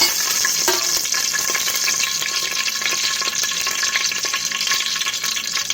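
Whole spices, cinnamon stick, cloves and cardamom, frying in about 50 ml of oil in a pan, giving a steady close sizzle and crackle with no talking.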